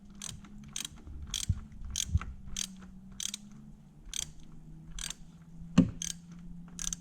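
A half-inch drive ratchet on an extension turns the oil filter canister of a 2.7L EcoBoost Ford Edge Sport, giving a regular series of crisp clicks about every half second, close and clear over a low hum.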